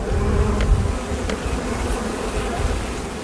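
Honeybees swarm around hives at an apiary, a dense continuous buzzing drone, loud and close, with no voices.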